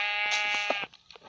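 A sheep bleats in the video game Minecraft, a short wavering series of loud, close bleats lasting about a second.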